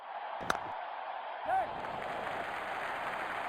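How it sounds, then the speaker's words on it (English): A cricket video game crowd cheers and applauds in a steady, dense roar that holds throughout, with a brief sharp crack near the start. "Crowd is going crazy."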